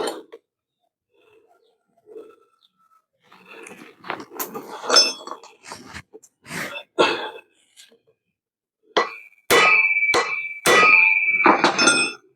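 Sharp metallic clinks and clanging strikes, several in a row, close by, as metal parts are hammered out during a car repair, with a person talking at times in between.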